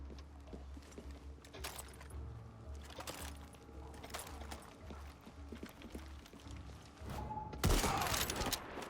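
Gunfire in the video game Far Cry 6 comes as quiet, scattered sharp cracks within faint in-game ambience, ending in a louder, noisy burst.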